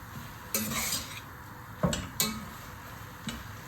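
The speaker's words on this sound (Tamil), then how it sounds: "சேர்த்துட்டு நல்லா வதக்கி விட்டுக்கோங்க" Fresh mint leaves sautéed in a pan for pudina pulao, with a few spoon-scrape stirs and clinks over a soft, low background sizzle.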